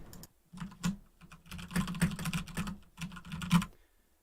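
Close, brisk keystrokes on a computer keyboard, clattering in uneven runs with brief gaps and a few harder taps that stand out, all without speech.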